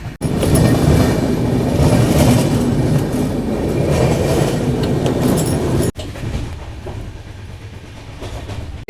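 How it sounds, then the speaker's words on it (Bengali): The 12517 Garib Rath Express, a passenger train from Kolkata toward Guwahati, runs on rails with a loud, close rumble and clickety-clack, then drops abruptly to a quieter steady roll partway through. "বন্ধুরা ফাইনালি আমাদের ট্রেন ছেড়ে দিল 12517 গরিব রথ এক্সপ্রেস"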